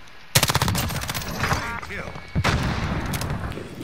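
Rapid automatic gunfire in a combat video game, a fast burst of close, loud shots followed by a second volley, with players talking over the action.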